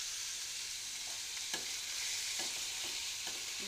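Onions and tomato pieces frying in a pan for chicken curry, a steady bright sizzle with a few soft stirring scrapes and knocks, close and continuous with no talk.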